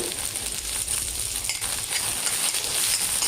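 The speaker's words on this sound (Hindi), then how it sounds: "प्याज के साथ साथ हम बैगन भी भून लेंगे इस तरह से" Eggplant and onion fry together in a pan, giving a constant, fairly loud sizzle with faint stirring scrapes throughout and no voices.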